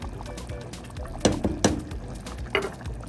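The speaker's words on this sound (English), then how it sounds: "We're gonna add the bolognese sauce." Bolognese sauce goes into a pan of simmering meat being cooked for nachos, giving a few brief wet splats and plops over a low, steady bubbling background.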